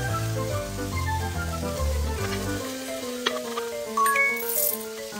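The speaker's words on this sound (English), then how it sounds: "Put onions and garlic into the frying pan." In a children's cooking game, onions and garlic sizzle and fry in a pan with a steady crackle, joined by stirring rattles and chiming musical game tones, with no talking.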